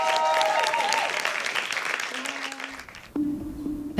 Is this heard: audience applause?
yes